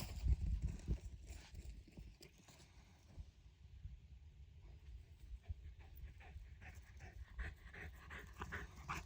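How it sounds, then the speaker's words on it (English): A dog pants steadily at close range, quick rhythmic breaths running throughout, faint and low with light background rustle. "He's a good dog when he wants to be."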